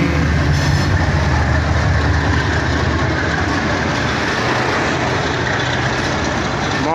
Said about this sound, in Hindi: मोहनजोदड़ो एक्सप्रेस जो ओखली जाने के लिए यहाँ से गुजरेगी